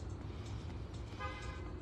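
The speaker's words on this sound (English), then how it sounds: "the horn honked" A car horn toots once, clearly and loud, over steady road and traffic noise.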